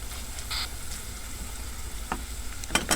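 Ingredients for spaghetti sauce sizzle as they are sautéed and stirred in a pot, a continuous close frying hiss broken by a few sharp scraping clicks of the spoon.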